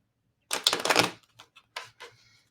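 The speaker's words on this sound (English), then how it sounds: "You gather your cards, and I feel like right now I need to do another shuffle." A deck of Lenormand cards being shuffled close up, one quick riffling burst followed by a few soft, scattered taps and slides as the cards settle, quiet overall.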